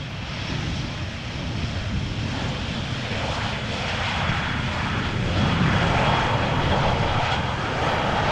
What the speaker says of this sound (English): Aer Lingus arriving from